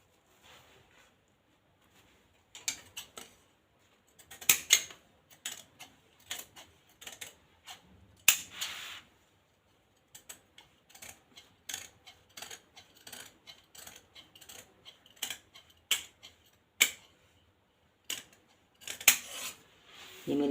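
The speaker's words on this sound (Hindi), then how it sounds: "बराबर बाजू काटनी है मुझे" Scissors cutting blouse sleeve fabric, a quiet close series of irregular snips and clicks in short bursts separated by near silence.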